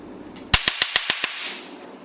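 An Nd:YAG laser tattoo removal machine fires a test burst: six sharp snapping cracks in quick even succession, loud and close, then fading into a soft hiss.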